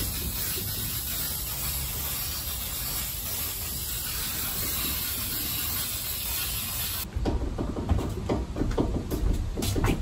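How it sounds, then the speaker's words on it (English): Aerosol spray can spraying, a continuous close hiss lasting about seven seconds, then giving way to rattling and handling noise. "Now we're gonna spray."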